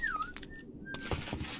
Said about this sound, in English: He's whistling